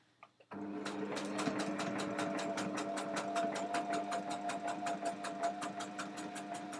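A sewing machine stitches a zigzag seam on a pen wrap, running at an even pace with a rapid, regular mechanical tapping that continues without pause after a short start.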